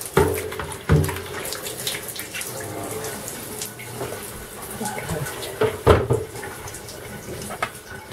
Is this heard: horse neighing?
no